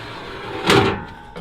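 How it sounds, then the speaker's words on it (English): A ladder is pulled out from the body of a MAN TGM 18.250 refrigerated rigid truck, giving a single clattering scrape and thump midway that rises over steady background noise and then fades. "A ladder here as well. Let me just pull that out."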